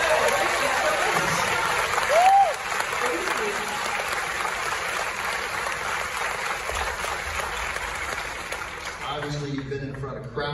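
Sustained audience applause fills a live interview event for the film Licorice Pizza, a dense, steady wash of clapping from a large crowd lasting several seconds, with a brief cheer or whoop rising near the start before the clapping tapers off at the end.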